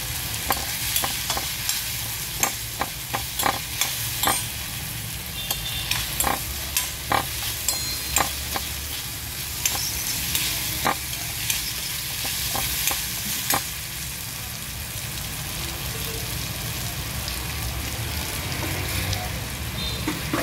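Raw mango kharda sautés in a pan with a constant soft sizzle, while a spatula scrapes and taps in irregular bursts, close and clear.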